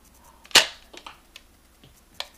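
A Nerf Reflex toy blaster fires one sharp, loud pop that is nearby and stands alone, followed by a few softer mechanical clicks and rattles from handling the blaster.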